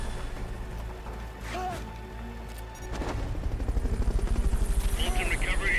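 Helicopter in Metal Gear Solid: Peace Walker, its rotor building into a loud rhythmic thumping in the second half amid game effects and bursts of noise.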